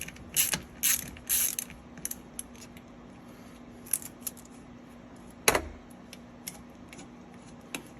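Hand ratchet loosening 10 mm bolts from an upper intake bracket, heard as a few short bursts of clicking near the start and then isolated ticks and clacks scattered through otherwise quiet workshop air.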